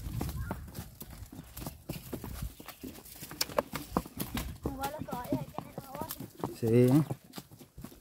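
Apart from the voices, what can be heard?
horse hooves clip-clopping while riding to fetch river water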